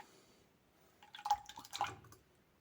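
Liquid poured through a paper filter, giving a few faint, close drips and small splashes over a quiet background.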